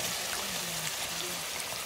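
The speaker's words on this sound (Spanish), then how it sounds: "Y vamos a echar este hermoso bacalao." Salt cod dropped into a simmering pot of pigeon peas over an open wood-fire stove gives a steady, soft bubbling and watery hiss, fairly faint and continuous with no talk.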